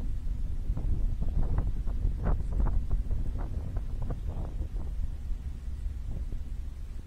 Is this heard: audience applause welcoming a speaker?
no